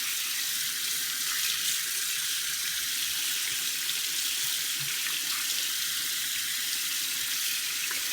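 Tap water runs steadily from a faucet to warm it for watering plants, a constant hissing stream at moderate volume with no talk.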